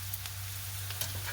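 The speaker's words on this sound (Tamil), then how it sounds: "வெங்காயம் உள்ளி வதங்கி வரைக்க போட்டு மிக்ஸ் பண்ணி விட்டுருக்கு" Onion and garlic sautéing in a pan with fennel give a soft, steady sizzle. A low hum runs under it, and faint scraping stir noises come through now and then.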